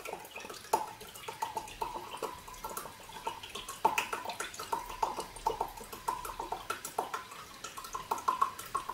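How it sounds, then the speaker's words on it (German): Half a litre of apple cider vinegar trickles slowly into a container for homemade iron gall ink, making a quiet, steady run of small drips and splashes with a faint ringing tone, heard alone. "Apfelessig laut Rezept nochmal ein halber Liter."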